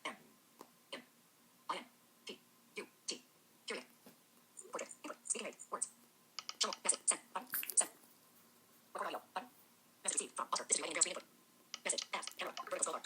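Series of soft taps and clicks from fingers entering text with Braille screen input on an iPhone touchscreen, coming in irregular bursts with short pauses between them, with a faint steady hum underneath.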